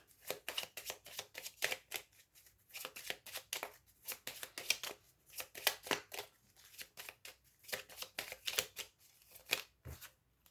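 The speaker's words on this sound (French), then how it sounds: "On va faire un petit tirage avec le petit Lenormand." A deck of Lenormand cards is shuffled repeatedly for a reading, with quick papery riffles and soft slaps in rapid irregular bursts, close and quiet, with no talking.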